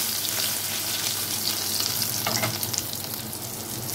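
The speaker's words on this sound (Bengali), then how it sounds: "এখন মাছের ডিমটাকে আমি ভালো করে তেলের মধ্যে একটু ভালো করে ভেজে নেব।" Fish roe frying in hot oil for an egg and eggplant dish: a steady, dense sizzle runs throughout at close range, with faint stirring scrapes over it and no talk.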